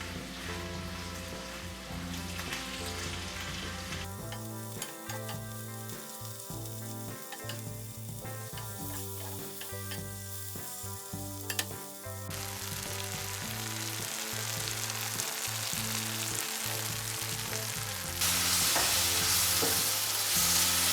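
Sliced onions for French onion chicken fry in a hot pan, a continuous crackling sizzle with occasional stirring scrapes, close and steady, growing louder and brighter toward the end; music plays underneath throughout.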